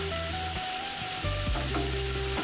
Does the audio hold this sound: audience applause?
no